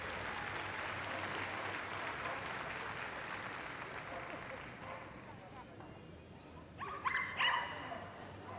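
Audience applause at Crufts 2012 following a working trials dog display, a broad steady clapping in a large hall that gradually thins, with dogs yipping and barking near the end.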